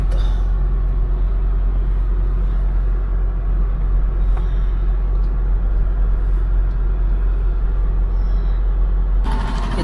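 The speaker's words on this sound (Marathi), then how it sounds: "गाडी मागे लावून घेतो." A heavy truck engine rumbles steadily at close range, low and loud, with faint mechanical clicks, as the vehicle backs up under hot, dusty conditions at a dairy site.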